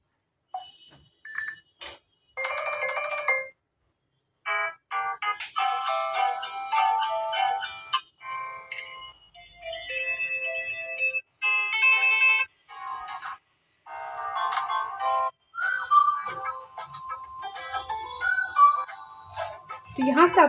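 Samsung Galaxy J7 ringtone previews play in a row: short melodic electronic tones start and stop as different ringtones are sampled, with brief gaps between them and no talk.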